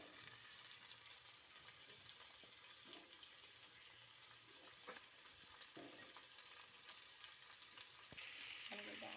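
Potatoes sizzle and fry in a pan with onions as a veg palaav is cooked, with a steady hiss and occasional soft scraping stirs, fairly faint.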